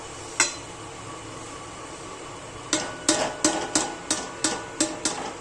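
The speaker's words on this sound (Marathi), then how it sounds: "आणि हे सगळं एकत्र हलवायचं हे असं." A spoon stirs dry fruits into a roasted mixture of dates and dry dates for ladoo. It knocks against the pan once, then about eight times in a steady rhythm, close and clear over a low background hiss.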